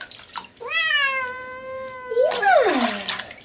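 A Bengal cat being bathed gives two loud, drawn-out meows, the second rising and bending sharply, with faint splashing water in the background.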